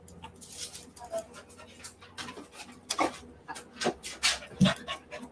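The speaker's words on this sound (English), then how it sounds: "That is my dog trying to get into my door." A dog trying to get in at a door, with a series of scratches, thumps and short whimpers or yips in irregular bursts, close by and moderately loud.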